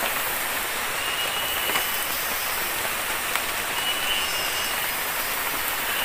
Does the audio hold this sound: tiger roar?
no